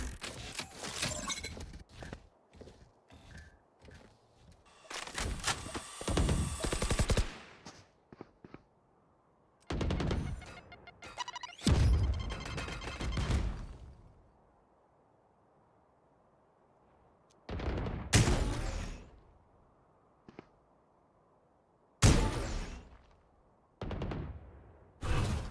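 An automated turret fires in a video game, letting out several loud, separate bursts of rapid shots with quiet pauses between them and no talk over them.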